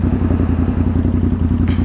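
A motorcycle engine runs close by with a steady, throbbing low rumble and fast regular pulsing, loud and continuous throughout, with no voices.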